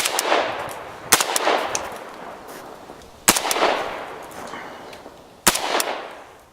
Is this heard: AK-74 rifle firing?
yes